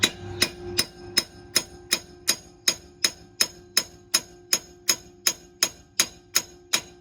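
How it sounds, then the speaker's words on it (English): Hammer knocking a new wheel stud into the hub of a Ram 2500 pickup, a steady run of sharp metallic strikes about twice per second, close and evenly paced, with no voices. "then you can just start using the hammer right at this angle"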